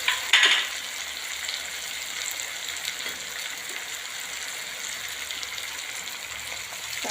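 Soaked spices hit hot oil with browned onion and tomato in a pan for garlic sev sabzi, giving a loud sharp sizzle at first that settles into a steady, even frying hiss throughout.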